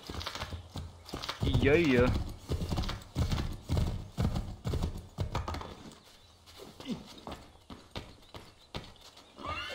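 A horse trots in the video game Assassin's Creed 3, its hooves sounding as a run of close, regular clip-clops with a brief whinny early on, while someone talks and reacts over it.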